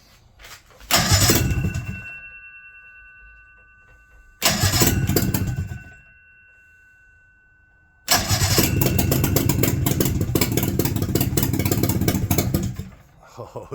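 A 1976 Attex ST400 Chief 6x6 amphibious vehicle's small engine cranks and catches in two short loud bursts that die away, then fires up and runs steadily and loudly up close before cutting off near the end.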